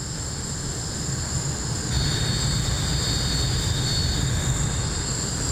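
Airplane engine in a flight simulator game during a group flight over South Korea, a steady droning hum with a thin high whine that grows slightly louder midway, continuous and alone with no talk.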